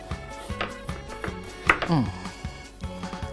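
A knife chops repeatedly on a cutting board as sausage pieces are trimmed down for corn dogs, a steady run of close, crisp taps with one brief louder scrape near the middle.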